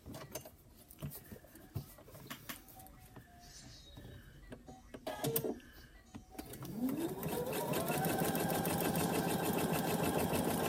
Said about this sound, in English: I'm going to sew these